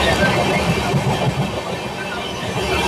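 An Amrit Bharat Express train rolls along the rails near Gudur, giving a steady loud rumble with faint rhythmic clatter from the wheels.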